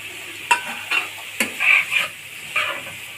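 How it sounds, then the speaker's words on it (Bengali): Cauliflower frying in a pan for a mashed cauliflower dish, with a few short scraping stirs and soft sizzling bursts at steady intervals, close and alone with no talk. "এটা আমি ভালোভাবে ভেজে নেব"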